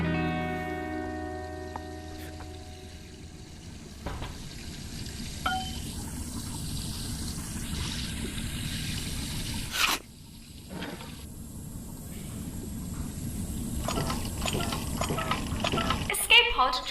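Water drains from an escape pod in the virtual reality puzzle game I Expect You To Die, a steady rushing, gurgling flow lasting well over ten seconds, with a brief break midway and voices in the background.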